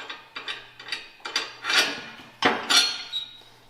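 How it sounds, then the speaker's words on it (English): A ratchet wrench backs a bolt out of a weed burner's handle mount, giving quick bursts of metallic clicking in uneven pulls, close and clear with a faint hum underneath. "So we'll remove this bolt out of here first,"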